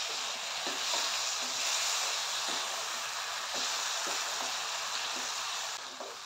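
Assamese fish curry with tomatoes, potatoes and cauliflower sizzling steadily in a pan as it is stirred, with a continuous close frying hiss and soft scraping strokes from the stirring.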